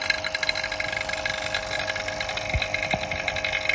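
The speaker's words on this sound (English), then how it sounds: "I have no idea how long I have to pull the vacuum." A vacuum pump runs while degassing clear resin for a car lens mold, giving a steady, fairly loud mechanical hum with a faint rattle, constant throughout with no pauses.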